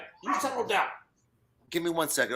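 Small dogs bark and yip close by in a home studio in the morning, in bursts separated by a brief pause, with a person talking over them.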